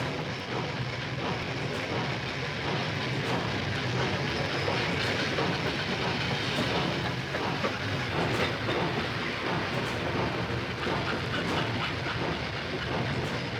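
A slow-moving vehicle pass-by, Doppler-processed, rumbles steadily with faint rhythmic clacking throughout, holding an even, moderate loudness with no clear approach or fade.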